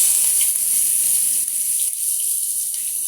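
Chopped onion drops into hot oil in a wok, producing a loud, steady hiss of sizzling frying close by, with faint soft knocks underneath.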